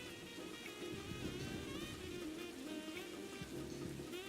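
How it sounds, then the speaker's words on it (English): Steady rain in the Pokemon Legends ZA video game, a dense continuous patter with low rumbling underneath, faint and even throughout with no talking. "now we can enjoy the soothing sounds of the rain without anxiety"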